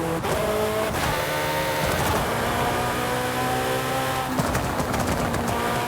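A yellow Ferrari in Forza Horizon revs hard with a droning engine note, dropping and rising in pitch as it downshifts, with sharp crackling pops around the gear changes.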